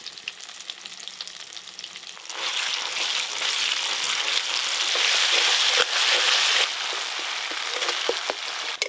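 Spice paste of black cumin, ground cumin and dried red chilli frying slowly in oil for a fish curry, a steady sizzle that swells louder partway through and keeps crackling close by with no voices.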